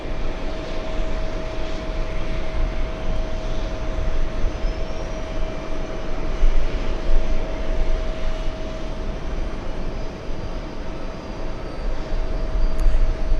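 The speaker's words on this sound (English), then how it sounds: "The Dreamliner, the 787, should be parking right there at gate 3." Boeing 787 Dreamliner taxiing toward its gate at JFK, a steady moderate jet whine with a sustained tonal hum over broadband rumble, fairly even in level with no talk.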